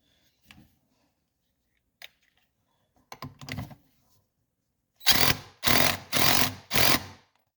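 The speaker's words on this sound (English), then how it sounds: "Then I will run it in with an impact." An impact wrench running a nut onto the flywheel of a 1986-1989 Honda TRX250R ATV, several light taps first, then four loud, even hammering bursts in quick succession.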